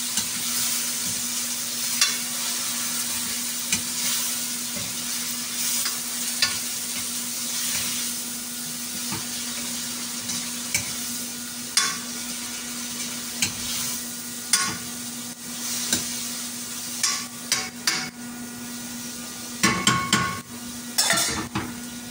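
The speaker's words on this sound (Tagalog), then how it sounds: "Halo-haloin natin." Ginataang monggo with dilis (mung beans and anchovies in coconut milk) simmers in a pan while a utensil stirs it, soft sizzling under a steady hum, punctuated by scattered scrapes and taps against the pan, louder toward the end.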